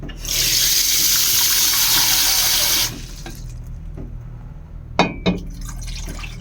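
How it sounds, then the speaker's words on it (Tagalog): Dashi broth for Japanese oden is poured into a cooking pot as a steady, close splashing rush for about three seconds. It then stops, leaving quiet room tone broken by a couple of short clinks. "Ilagyan natin ng sabaw."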